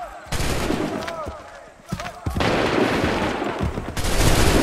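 Musket volleys in an eighteenth-century battle in Assassin's Creed III: several dense crackling bursts of massed gunfire, loud and close, separated by short lulls with shouted commands between them.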